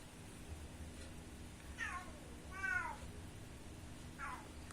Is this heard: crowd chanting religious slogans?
no